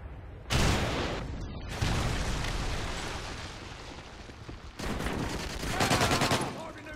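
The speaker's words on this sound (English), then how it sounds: "Friendly Predator missile inbound." Heavy gunfire and explosions from a Predator missile strike in the Call of Duty Modern Warfare 3 video game, loud dense blasts and bursts in sustained waves with a brief lull midway.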